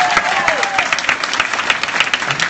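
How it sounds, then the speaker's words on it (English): Applause from a comic con audience in New York, a dense patter of clapping hands that stays loud and steady throughout, with faint voices mixed into the crowd. "Round of applause for Namitha!"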